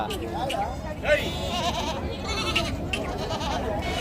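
Goats bleating at the Gudur livestock market, several wavering cries rising over a busy background of crowd chatter and nearby voices.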